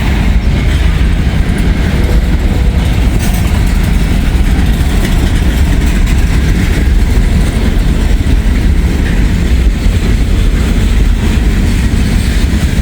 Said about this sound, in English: So this train passes